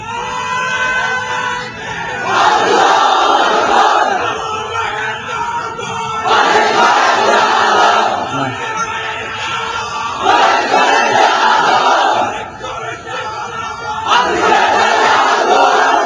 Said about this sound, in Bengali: একটু একটু মহব্বতের সাথে দেন তো সবাই স্লোগান।